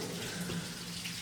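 Water pours steadily like a small waterfall inside a storm drain tunnel, a constant rushing wash heard faintly and without voices.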